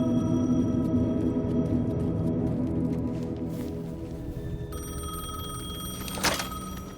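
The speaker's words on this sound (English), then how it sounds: "The payphone was ringing." A payphone rings in the Alan Wake 2 video game, a sustained electronic bell tone that fades slightly, then a brighter ringing burst returns with a sharp click near the end.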